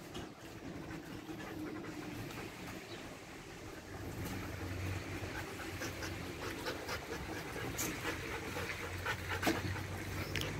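Belgian Malinois puppies, a shepherd breed, pant in a steady, continuous rhythm close by, with a low rumbling background running underneath throughout.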